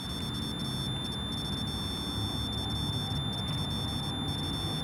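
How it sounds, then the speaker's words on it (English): A continuous high electronic tone sounds steadily over a low rumbling background, with faint brief interruptions but no talking. "Oh, now it's beeping."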